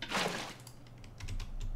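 A machine in a Minecraft modpack, sped up with speed upgrades, clicking in quick light ticks over a soft background hiss, fairly faint and with no talking.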